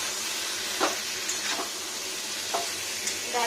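Salted drumstick stems fry in a pan with a steady, close sizzle, broken by a few sharp scrapes and knocks of stirring.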